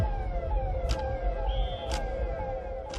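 An ambulance siren wails through quiet streets, its tone sweeping in repeated cycles at moderate distance over a low background rumble.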